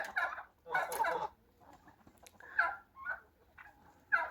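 Turkeys gobble and chatter in short bursts, several calls spaced across the clip, moderately close and fairly loud.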